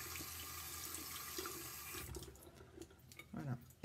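Water runs from a tap as a paintbrush is rinsed under it, a steady close hiss of flow that thins out and splashes more unevenly toward the end.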